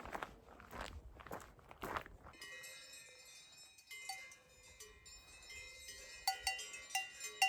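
Footsteps crunch along at first, then the cowbells of several cows grazing in a Bavarian Alps pasture clank and ring in the distance, their uneven jangling continuing and growing a little louder near the end.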